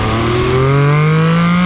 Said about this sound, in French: ça permet de bien profiter de la sonorité de ce flat 6 Atmo 4 litres